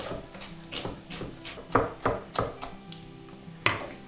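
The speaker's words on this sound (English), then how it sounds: "just roughly chop the onion" Knife roughly chopping an onion on a wooden board for tuna pasta, a series of sharp, close taps at uneven intervals with quiet gaps between them.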